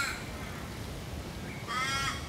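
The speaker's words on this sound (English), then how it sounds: "They look a lot like crows." Crow-like birds caw on Rottnest Island, two short rasping calls at a distance over a steady outdoor background hiss.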